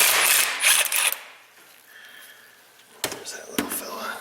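A 17 mm socket ratchets on a brake caliper's parking brake arm: close, bright metallic clicking and rattling in short bursts, pausing in the middle, then a few sharp clanks.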